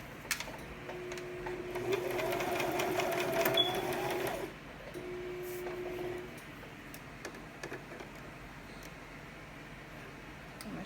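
A Brother sewing machine stitches close by in two runs: a steady mechanical whirr for a few seconds, a short pause, then a briefer second burst before it falls quiet.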